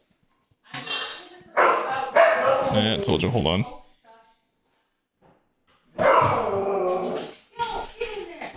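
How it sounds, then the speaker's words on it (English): Dogs bark loudly and close by in a home, with several bursts of sharp yips and barks coming in two clusters while a person speaks over them. "My dogs are probably gonna about to bark, just so you know."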